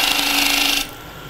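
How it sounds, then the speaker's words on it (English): A round carbide cutter scrapes across wood on a lathe, a close, steady raspy shaving sound lasting under a second before dropping away to quiet room noise. "I'm going to use a round carbide cutter to help me get the swoops."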